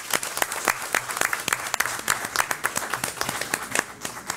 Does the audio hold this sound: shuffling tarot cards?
no